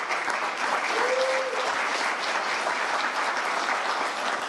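An audience at an annual association meeting applauds steadily, a dense, even wash of clapping that holds for several seconds with no clear talk over it.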